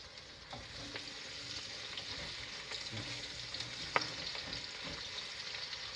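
Green peppers frying in a pan for Maltese kapponata, a soft steady sizzle with occasional stirring taps and one sharp clack, quiet and close, without talk.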